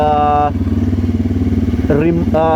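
A motorcycle engine runs loud and close, its throttle eased open gently so the idle climbs into a steady rev with a slight dip and rise near the end.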